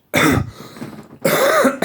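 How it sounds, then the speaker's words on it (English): Throat clearing, heard close and fairly loud as two rough, raspy bursts separated by a short quieter gap. "just clear my throat."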